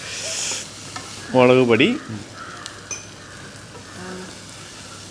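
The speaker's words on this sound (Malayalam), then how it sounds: "1/4 ടീസ്പൂൺ മഞ്ഞൾപ്പൊടി വീണ്ടും ഇളക്കുന്നു." A spatula scrapes and stirs turmeric powder into beef frying in a pan for a beef ghee roast, with a short burst of sizzling and clinks, while a voice speaks briefly.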